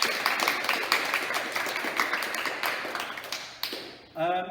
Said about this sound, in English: let's give a round of applause for Zach